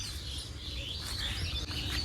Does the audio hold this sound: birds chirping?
yes